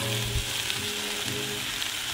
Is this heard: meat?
yes